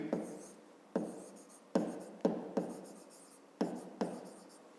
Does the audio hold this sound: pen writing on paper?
yes